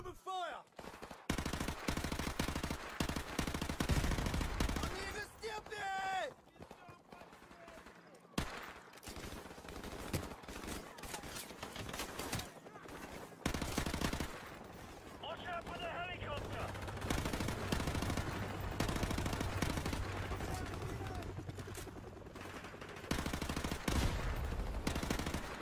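Rapid bursts of automatic gunfire and single shots crack loudly and almost continuously in Call of Duty Modern Warfare Remastered, with explosions and in-game voices mixed in and a steady low rumble underneath.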